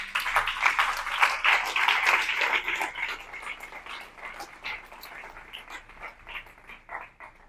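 A church congregation breaks into loud, dense applause that peaks early and gradually thins and fades over several seconds.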